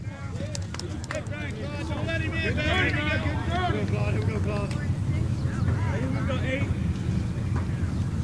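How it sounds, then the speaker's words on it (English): Wind blows across a high school baseball field during a Phoebus Phantoms vs. Kecoughtan Warriors game, a steady, loud low rumble buffeting the microphone throughout, with voices talking over it. "Wind picking up a little bit."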